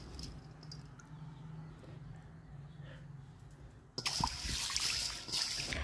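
Job's tears grains are rinsed by hand in water, giving a close burst of splashing and trickling that starts partway through, after a quiet stretch, and carries on to the end.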